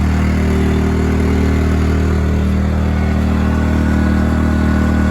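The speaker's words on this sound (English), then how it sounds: "That's what I like about these inverter generators" A small inverter generator runs at a steady, even hum close by, with no change in pitch or revving.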